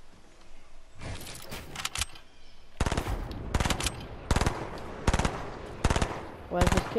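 Repeated bursts of video game automatic gunfire, loud and close, crackling in several rapid volleys with short gaps between them, with a faint voice underneath.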